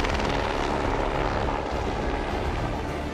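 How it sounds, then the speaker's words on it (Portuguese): A rescue helicopter's rotor and engine roar steadily and loudly throughout while flying over the Andes, a dense continuous thrum with no voices. "O helicóptero de resgate corta a cordilheira e marca de perto os competidores."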